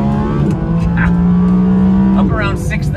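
An Audi R8 V10 RWS engine accelerating hard toward its 8,500 rpm redline, a loud, steady, high-revving roar that climbs and then breaks off with a quick gear change and rises again, heard from inside the car with someone talking over it.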